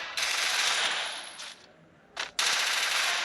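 Rapid machine gun fire in a shooting video game, two long bright automatic bursts separated by a short pause and a brief clipped burst, loud and close with no talk over it.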